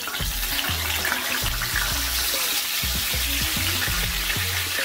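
Red snapper fish frying in hot oil, a loud continuous sizzle and spatter throughout, with a low repeated humming tone pulsing beneath it.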